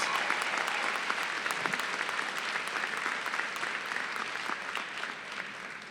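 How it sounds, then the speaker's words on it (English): A large audience applauds continuously for several seconds, a dense steady roar of clapping heard from a distance. "Give them a round of applause."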